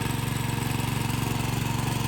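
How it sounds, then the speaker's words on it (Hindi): An agricultural cultivator engine with a built-in generator idles at a steady, fast, pulsing chug, close and continuous with no talking. "तो कल्टीवेटर नाम से भी इसे जाना जाता है दोस्तों।"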